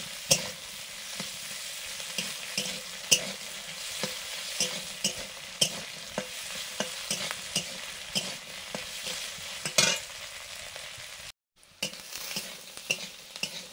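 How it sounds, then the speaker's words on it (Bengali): Vegetables with peas and ginger fry in a hot pan for a vegetable paneer pulao, a loud continuous sizzle broken by regular scraping stirs and light utensil knocks, heard up close with no talking. "সবজিগুলো ভাজা হয়ে গেছে।"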